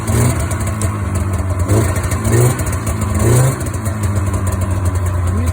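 A Polaris Indy Sport 488 snowmobile engine runs on choke at a loud, close idle, a rough two-stroke burble with a few small rises in revs.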